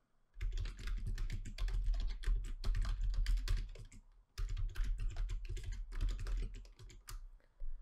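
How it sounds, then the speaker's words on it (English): Close, steady typing on a computer keyboard as an email address and password are entered into a login form, two rapid runs of clicking keystrokes with a brief pause between them. "the first thing you want to do is type in your email and password"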